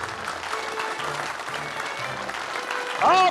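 Audience applause fills a stage show of magic acts, steady clapping from a crowd throughout with a louder burst and a brief voice near the end.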